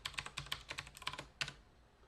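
Someone types a sudo password on a computer keyboard: a quick, uneven run of about a dozen crisp key clicks, close and quiet, ending in a brief pause.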